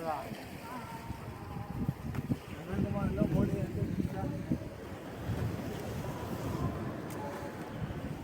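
Sea waves strike rocks at Kanyakumari in a broad, rumbling wash that swells and recedes under heavy wind buffeting, with people talking nearby.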